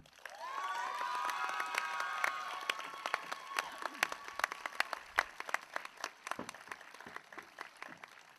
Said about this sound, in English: give a big round of applause to our class president, Rico Catolico